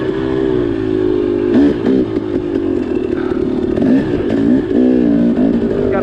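A dirt bike runs along a forest trail in Gifford Pinchot National Forest, its engine droning loud and close with repeated rises and dips in pitch, rattling over rough ground.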